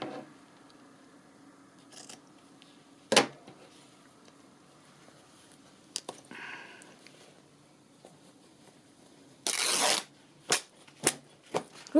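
Paper tears for a baby journal in one short, crisp, ripping burst, with a few small rustles and clicks before and after in a quiet room.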